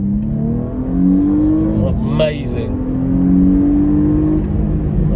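A 2020 Porsche Panamera 4 E-Hybrid accelerates hard with its power-boost mode engaged. The engine note climbs steadily, dips briefly, then rises again, while someone talks excitedly over it from inside the cabin.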